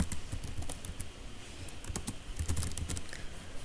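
Rapid clicking keystrokes on a computer keyboard as a file name is typed, a steady run of close, crisp taps with no talking.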